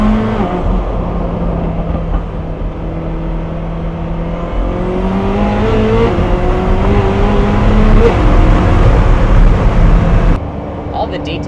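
Koenigsegg Jesko sports car heard from the cabin while driving: a steady, loud engine roar whose pitch climbs through several rising sweeps as it accelerates, then drops off abruptly near the end.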